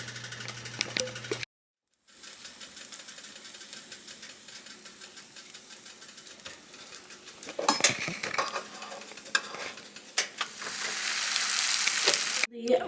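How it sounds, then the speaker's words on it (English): Bread coated in olive oil sizzles on a heated panini maker, a steady low frying hiss with faint clinks of utensils, briefly cut out then swelling louder toward the end. "And then our little panini maker, getting heated up right now. Our bread coated in olive oil."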